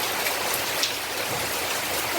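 Steady rain falls outdoors, a dense even hiss of drops spattering on surfaces that stays constant and fairly close throughout, with no voices.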